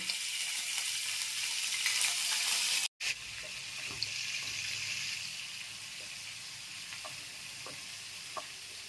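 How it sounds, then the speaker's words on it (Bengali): Ginger and asafoetida tempering hiss in hot oil for a vegetarian snake gourd and rice-dumpling ghonto. A steady, close sizzle runs throughout, broken by a brief silent gap near the start, with faint utensil clicks. "এবার আমি আদা আর হিং মিশিয়ে আমি ফোড়ন দেব"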